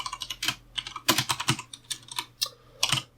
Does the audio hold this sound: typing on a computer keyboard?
yes